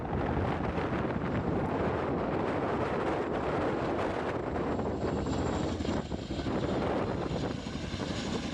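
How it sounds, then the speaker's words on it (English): A search and rescue helicopter drones overhead, a loud continuous rotor and engine roar mixed with wind buffeting the microphone, filling the whole clip. "That would actually be the search and rescue helicopter."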